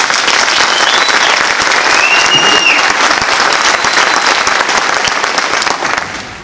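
A conference audience applauds the speaker Alberto Bacelar after his lecture. The clapping is loud and continuous, a full crowd sound that starts to taper off in the final second.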